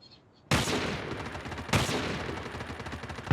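Sniper and other gunfire in a video game room match, a sudden loud burst of rapid shots after a quiet start, with a second sharp blast midway and continuous crackling fire.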